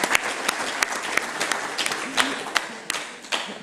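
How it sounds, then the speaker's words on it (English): Audience applause during a live-streamed spotlight conversation session, a steady wash of many hands clapping with a few sharper individual claps standing out, fairly loud and sustained. "we should just give him a round of applause right now for trying it out"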